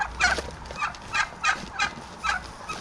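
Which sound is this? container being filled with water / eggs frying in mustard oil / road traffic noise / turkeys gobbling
turkeys gobbling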